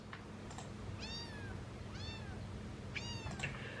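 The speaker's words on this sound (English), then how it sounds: "There's a cat." A stray cat on a rooftop in Egypt meows three times, clear rising-falling calls over a steady low background hum, with no talking.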